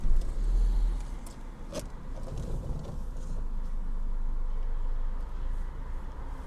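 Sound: Renault Megane 1.6 automatic engine starting and idling

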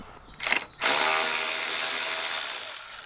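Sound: removing Audi A3/S3 grille fasteners with a tool

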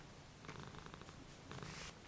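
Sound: cat purring

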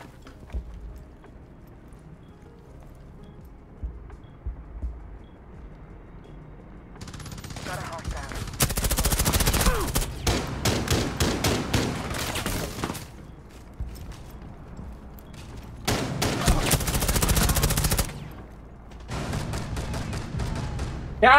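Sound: gunfire from a weapon in Rainbow Six Siege video game

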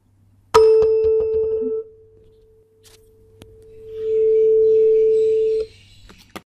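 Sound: tuning fork resonating, picked up by microphone

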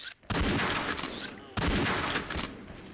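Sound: gunshots in a deathmatch video game

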